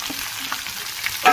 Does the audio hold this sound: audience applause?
no